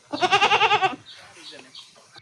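Goats on a dairy farm bleat in a loud, wavering call lasting about a second, followed by fainter background farm sounds and distant bleats.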